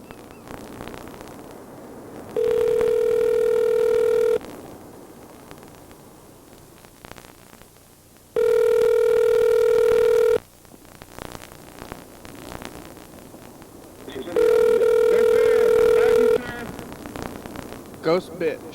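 A phone rings out three times, each ring a sustained electronic tone lasting about two seconds, spaced a few seconds apart over a low static hiss.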